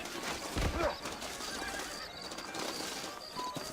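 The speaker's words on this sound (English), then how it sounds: "I got the horses saddled up and ready out front." Horses whinny and neigh in the video game Red Dead Redemption, set in a frontier town in New Ulster, with one loud close whinny early on over a steady outdoor bed of hoof clip-clop and ambient noise.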